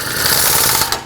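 A pulley bolt is snugged up on a Chevrolet Express van's serpentine belt tensioner, heard as a short continuous rasping, ratcheting rub lasting about a second, close and fairly loud.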